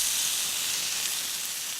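A steak rubbed with olive oil and pepper sizzles steadily in a hot pan, giving a bright, continuous hiss with no talk over it.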